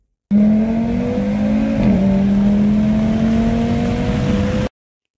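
A car engine revs loud and close, holding a strong steady tone that climbs slowly in pitch with a brief dip partway, alone for about four seconds before cutting off.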